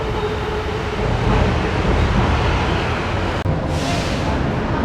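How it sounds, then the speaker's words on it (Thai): A Bangkok skytrain passes near Siam Discovery, its steady rumbling roar filling the street, with city traffic noise underneath and a brief whooshing swell near the end. "รถไฟฟ้ารถไฟฟ้า"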